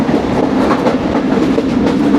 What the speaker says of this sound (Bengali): ফুলতলা পেরিয়ে আমাদের মংলা কমিউটার ট্রেনের গতি আবার আগে ছড়ানো